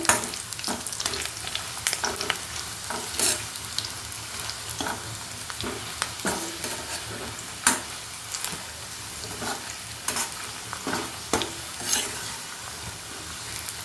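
Chillies and curry leaves crackle and sizzle in hot oil, with repeated scraping stirs and sharp pops scattered through the steady frying hiss.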